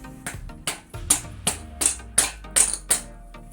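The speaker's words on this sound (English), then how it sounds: "The wood distributes the force of the hammer strokes, protecting the cooling fins from damage." Eight sharp, evenly spaced hammer blows land through a wood block on an engine cylinder, each a dull knock with a short ringing tail, up close.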